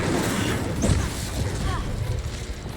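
An Incendio fire spell bursts out with a whooshing, crackling blast amid a noisy fight in Hogwarts Legacy, loud and close, with a voice speaking over the din.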